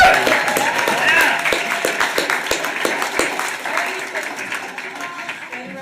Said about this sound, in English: let's give one more round of applause for our Glendale students